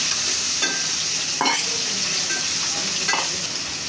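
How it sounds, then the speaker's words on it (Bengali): Shrimp sizzle in hot oil in a frying pan for a jackfruit and shrimp curry, a steady close crackle broken by a few distinct scraping stirs of a utensil against the pan. "চিংড়ি মাছগুলো দিয়ে দিব"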